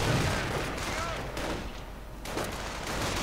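Rapid rifle fire and exploding grenades in a WWII strategy video game, with German Volksgrenadier infantry fighting American veterans, heard as a dense, continuous crackle of shots and blasts across a short stretch.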